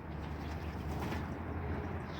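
Anabir pigeons coo softly and continuously at close range, a low steady murmur with faint rustling from the birds.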